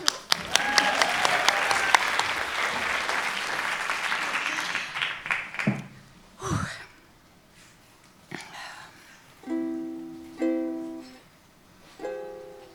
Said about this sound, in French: On applaudit clap.